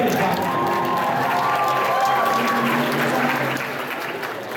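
Convention audience at Anime Boston 2013 applauding during an anime-themed Who Wants to be a Millionaire game show, a dense, steady roar of many hands clapping close by with faint cheering, tapering off slightly at the end.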